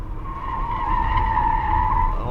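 Tires of a Ford Mach-E electric crossover skid and squeal during an autocross run, a steady loud screech that builds and holds for about two seconds with no talk.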